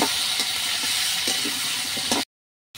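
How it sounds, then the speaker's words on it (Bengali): Potatoes frying in a pan give off a steady, fairly loud hissing sizzle with faint intermittent stirring taps, cutting off abruptly into silence. "আলুগুলো কিছুক্ষণ ভেজে নিতে হবে"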